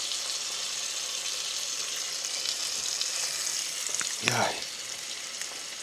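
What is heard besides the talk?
steak frying in a pan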